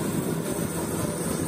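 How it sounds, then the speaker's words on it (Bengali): A local train entering Waria station on the Asansol to Bardhaman line produces a steady, dense rumbling roar that holds at an even level throughout, with no voices. "ট্রেন এখন ওয়ারিয়া ঢুকছে।"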